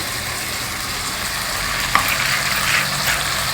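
Chopped cabbage with chana dal gives steady sizzling and frying from a pan, constant and moderately loud, with a single small clink partway through.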